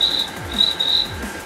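A beatboxer imitates a cricket with his voice, producing repeated high, thin chirps in an even rhythm over a low, steady background hum.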